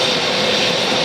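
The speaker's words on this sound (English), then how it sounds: "You can hear his engine spooled up." An airliner's jet engine spooled up at Atlanta airport gives a loud, steady, broadband roar with a high whine, close and filling the whole moment without pause.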